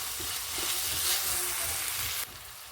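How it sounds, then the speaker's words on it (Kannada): Vermicelli (shavige) is stirred in a hot pan for a vegetable ragi upma. A loud, close, continuous sizzle and scraping runs throughout, then drops abruptly quieter near the end. "ಇವಾಗ ಲಾಸ್ಟ್ಗೆ ಶಾವಿಗೆ ಹಾಕಿ ಕೈ ಆಡಬೇಕು"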